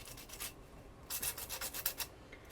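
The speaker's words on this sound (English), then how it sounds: "I have this smaller sander, and I think it might work better for this." A small, inexpensive hand sander works over a wooden farmhouse decor piece, making quiet rhythmic scratchy strokes in short bursts, close up, with a brief pause before a faster run of rubbing passes.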